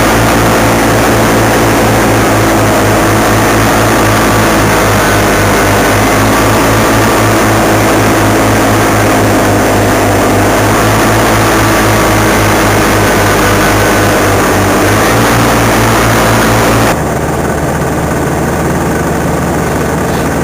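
A paramotor engine is warmed up in Sardinia, droning loudly and continuously with a throbbing pulse for about seventeen seconds. The noise then drops abruptly to a lower, quieter tone.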